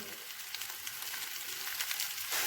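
Cumin paste and turmeric powder fry in a pan with a continuous close sizzle and hiss, rising slightly louder toward the end.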